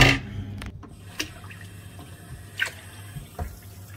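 Water runs from a household tap fed by a Chaffoteaux & Maury Nexia boiler that is failing to make hot water, a faint, steady trickle with occasional drips and small clunks, no one talking.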